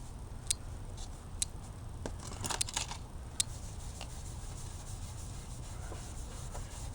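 Scrubbing a cloudy plastic front turn signal lens with baking soda paste, a steady close back-and-forth rubbing with a few sharp clicks, no voices.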